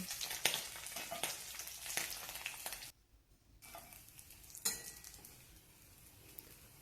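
Pieces of rohu fish sizzle steadily in hot oil in a home kitchen, with a brief quiet break and then softer frying and a faint clink of a utensil.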